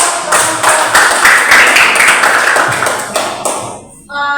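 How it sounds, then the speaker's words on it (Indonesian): A classroom of students applauding, a dense burst of many hands clapping that swells, holds, then fades out over about four seconds, ending in quiet. "Mari kita tepuk tangan."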